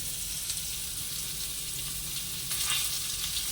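Potatoes fry in a pan, a steady, dense sizzle that holds at an even level throughout, with a brief brighter crackle late on and no voices.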